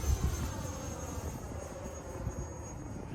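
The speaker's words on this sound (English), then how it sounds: "We're going to do a full speed pass. Kind of give you the feel of what that 8S on 90 does." An FMS Scorpion 90mm RC jet on 8S power makes a full-speed pass, its electric ducted-fan roar loud and sustained with a slight rise and fall as it sweeps by.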